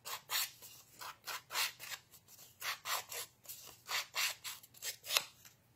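Stampin' Up scissors snip repeatedly through paper for scrapbooking, a steady run of about fifteen crisp, rasping cuts close by, with no talking.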